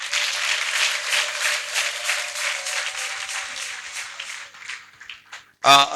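A church congregation breaks into sustained, rhythmic clapping that fills the room, loud and close, then thins and fades before a voice rises sharply at the very end.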